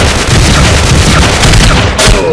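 A loud, dense explosive blast fills the clip, ending in a sharp burst near the end, a grenade going off in the game Ace of Spades.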